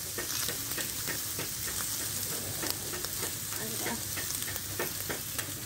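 Meat sizzles and crackles steadily on a Thai mookata grill pan, a dense continuous frying hiss with scattered pops throughout.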